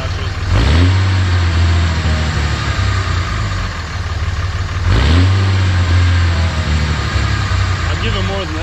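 A Dodge Cummins diesel truck engine revs twice with a rising turbo spool, the loud rumbling drone swelling and holding nearby while people talk over it.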